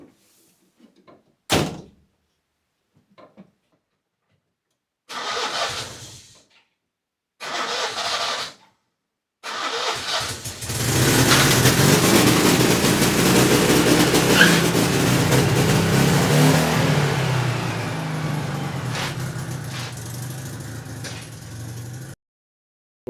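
Door clunks and a few short starter cranks lead to a Citroen 2CV engine catching and running, rising into a loud, steady rev for over ten seconds before stopping suddenly.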